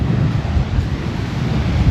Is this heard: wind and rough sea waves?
yes